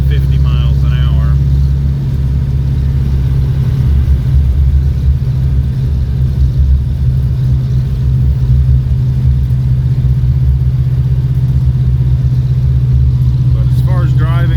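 LT1-swapped G-body El Camino cruising in fourth gear at about 50 mph, a steady low engine drone held throughout with someone talking over it.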